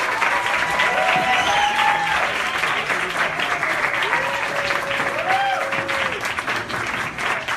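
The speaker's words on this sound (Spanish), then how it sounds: "Despedimos a nuestro invitado con un fuerte aplauso." Strong applause rises from the audience seeing off a guest speaker after a lecture, a thick, sustained clapping that stays loud throughout while a voice speaks intermittently over it.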